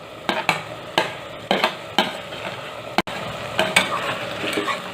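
Mung dal with pieces of bottle gourd is stirred in a pan over a medium flame, giving repeated scraping strokes with a soft sizzle beneath, close and fairly loud.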